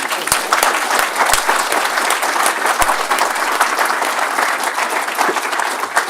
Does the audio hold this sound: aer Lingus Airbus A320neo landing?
no